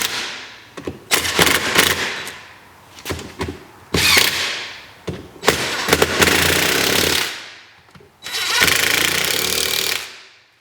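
A massive hammer drives a big punch to split a seized differential axle, ringing out in loud, sharp metallic blows that come in uneven clusters with short gaps between.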